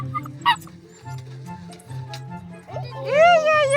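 A small puppy yips and barks in short bursts amid a busy background, with a voice and chatter around it.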